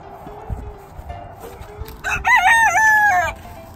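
A rooster crows once, a loud drawn-out call rising and falling, after a stretch of quieter background clucking and rustle.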